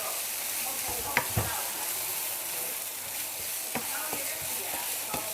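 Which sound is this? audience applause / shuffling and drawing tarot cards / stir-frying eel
stir-frying eel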